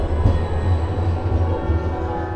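Tram in a street of Edinburgh's New Town, a loud, close low rumble and rolling drone as it passes, steady for a couple of seconds without speech.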